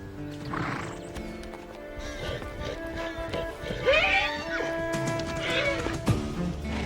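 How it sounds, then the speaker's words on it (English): A dominant sorrel stallion spars with upstart bachelor horses near the mares: shrill whinnies and squeals rise over scattered hoof clops and scuffling, with faint birdcalls in the background. "The dominant sorrel must prove himself again when an upstart bachelor gets too close to the mares."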